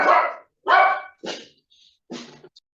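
A dog named Lucky barks four times at close range, loud and gruff, the last bark weaker and followed by a faint yip.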